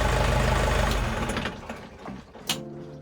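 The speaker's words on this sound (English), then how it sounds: "Engine on." A sailboat's engine runs with a dense, loud mechanical roar, then winds down and sputters irregularly before a short burst and a lower, rougher idle; no voices are heard.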